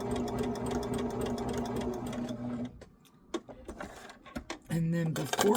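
A sewing machine runs steadily across fabric for a St Patrick's Day shamrock table runner, a loud continuous motor whir with needle chatter that stops partway, then resumes briefly in short bursts near the end.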